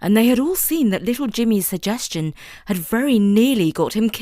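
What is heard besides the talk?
None of the usual background noises is heard.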